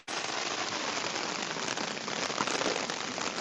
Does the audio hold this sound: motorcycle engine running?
no